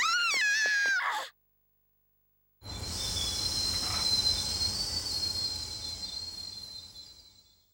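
A runaway train in the Persona 3 video game rushes along with a loud metallic rumble and high screeching wheel squeal after a brief game sound and a second of silence, then fades out.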